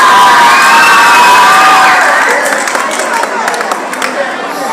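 A school Teachers' Day audience bursts into loud cheering, shouting and clapping, with children's voices prominent in a dense, close crowd roar that eases slightly toward the end.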